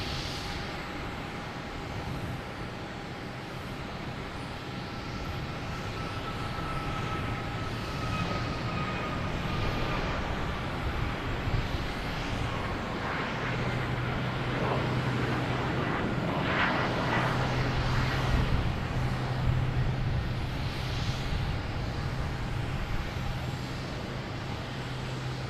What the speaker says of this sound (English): Taking off now, we have United Airlines heading to Chicago, a 737 MAX 8.